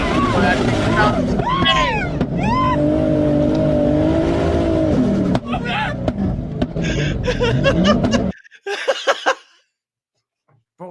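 A car engine revs hard while driving through sand dunes, heard from a played video as loud rising and falling engine whine, with people talking over it before it cuts off abruptly.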